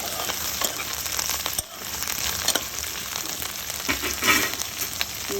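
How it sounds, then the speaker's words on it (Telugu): Okra pieces frying in oil in a pan for a tamarind okra stew, a steady close sizzle with a few faint stirring clicks and no voices. "ఇక్కడ బెండకాయలు వేగుతున్నాయి."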